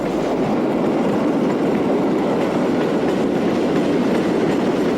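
Portuguese Railways 5600 class electric locomotive hauling a train past close by, a loud continuous roar of wheels and carriages with rhythmic clatter holding steady throughout.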